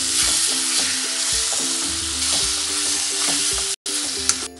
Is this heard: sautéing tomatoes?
yes